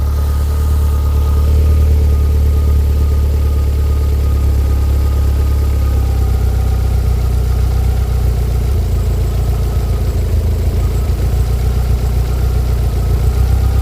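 Skoda car engine idling at tickover with the gearbox turning, a loud steady low drone that shifts slightly in tone partway through, heard close with no talking.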